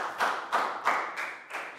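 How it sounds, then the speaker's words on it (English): A class of young pupils in a primary school maths lesson claps together for a classmate, five loose, evenly spaced bursts of clapping at a steady beat, close and moderately loud. "Big round of applause for Nadia."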